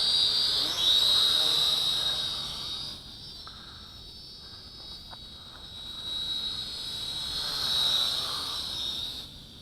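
An RF606 mini drone flies outdoors with a thin, high-pitched propeller whine that swells and fades as it moves nearer and farther away, with faint wind in the background.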